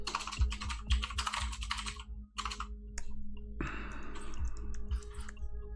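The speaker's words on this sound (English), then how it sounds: "I need to rearrange my keyboard for better typing going forward." Fast bursts of typing on a computer keyboard, close and crisp, pausing briefly before a denser run of clattering keystrokes over a faint background hum, with no talking.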